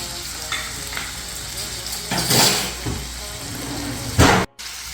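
Garlic butter clams sizzle steadily in a pan while being stirred and mixed with parsley, with scraping bursts from the stirring and a brief dropout near the end.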